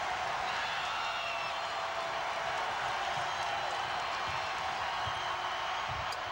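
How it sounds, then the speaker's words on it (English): Crowd noise fills a basketball arena at a women's college game between UConn and LSU, a steady roar of cheering and clapping from fans on their feet, even and continuous throughout. "And the crowd, many of them on their feet."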